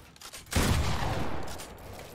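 A sudden loud burst of gunfire in a Fortnite-style building-and-shooting game erupts about halfway in, a rapid crackling volley that rings on and slowly fades.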